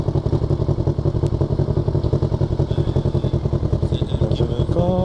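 A motorcycle pulling away and riding, its engine a loud, close, continuous chugging pulse with rattling clatter over it, steady for the whole stretch with no talk.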